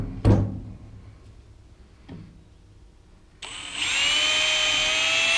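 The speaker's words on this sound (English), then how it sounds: "I've got my little hinges and I'm pre-drilling the hole." A couple of sharp knocks, a pause, then a small power drill whirs steadily and close by until the end, pre-drilling holes for hinges on a quail pen.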